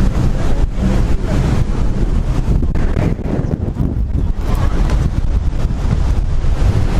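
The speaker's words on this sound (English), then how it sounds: "It's so damn windy out here, man." Strong wind at sea beside a boat near Curacao, roaring steadily and loudly into the microphone for the whole stretch, with buffeting gusts and wave noise underneath.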